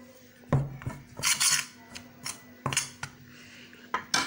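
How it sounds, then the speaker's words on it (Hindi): Besan, maida and a Knorr chicken cube are stirred together in a bowl, with irregular clinks and scrapes of a spoon against the dish and quiet rubbing between them; no one talks. "इसमें हम बेसन और मैदा शामिल कर देते हैं, और साथ ही इसमें हम अपना कनोर चिकन क्यूब भी ऐसे करके मिक्स कर देंगे।"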